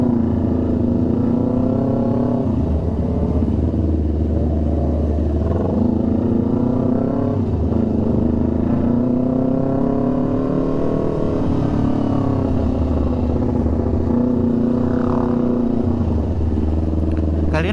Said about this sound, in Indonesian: Kali ini dibangunin sama 5 motor sekaligus nih boy.